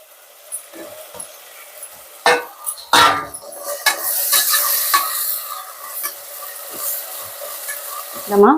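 Tomato with mint and salt sautéing in a pan for chicken gravy: close, steady sizzling under repeated scraping stirs, with a few sharper spoon knocks against the pan.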